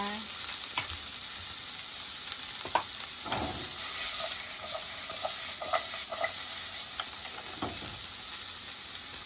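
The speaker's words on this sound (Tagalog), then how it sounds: "Pagkagisa ng luya, ilagay ko na yung sibuyas. Gisa ko lang ulit siya." Ginger and onion are sautéed in a pan, a loud, steady sizzle of frying with occasional stirring scrapes throughout.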